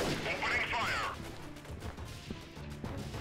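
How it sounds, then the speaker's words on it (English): Gunfire exchanged in the video game Freeman: Guerrilla Warfare, a burst of loud crashing shots at the start, then scattered fainter distant reports with a voice talking over them. "I still hear people exchanging fire."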